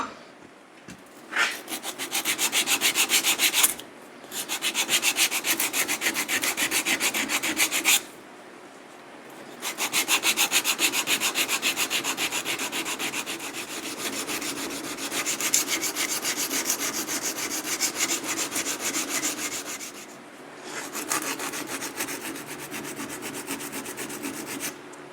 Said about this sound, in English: we got some 80 grit on my little sanding thingy